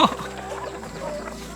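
Laying hens clucking at feeding time on a Thai backyard garden farm, a burst of close clucks at the start fading into a busy, steady flock murmur.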